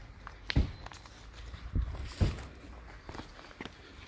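Footsteps on a street as someone walks past a barrier, a few distinct, fairly close steps at an irregular pace over quiet background noise.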